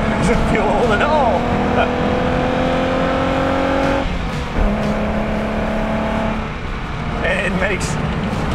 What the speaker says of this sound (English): The engine doesn't feel old at all.